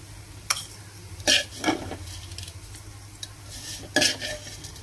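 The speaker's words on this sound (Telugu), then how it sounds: "సో ఇట్లా అయితే వేయించుకున్నా, ఇది ఒక గిన్నెలకు తీసేస్తున్నా." Fried vermicelli being scraped from a pan into a bowl, with a few sharp metal scrapes and clinks of a spoon against cookware over a low steady background hum.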